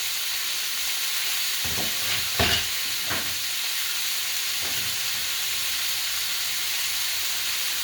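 Ribs frying in two frying pans of different sizes, a steady sizzling hiss throughout, broken by a few brief clanks or stirring bumps near the middle, with no talking.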